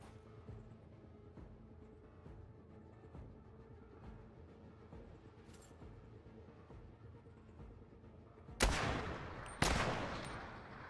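Two sharp, loud bursts of gunfire ring out near the end as enemies are shot in a video game, standing out against a low, steady rumble of game ambience.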